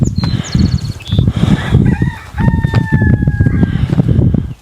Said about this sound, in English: Grab the bucket and go give this to Tobe's flock